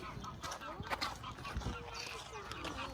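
Ducks and geese at a lake give scattered honks and quacks at moderate distance, mixed with a voice speaking.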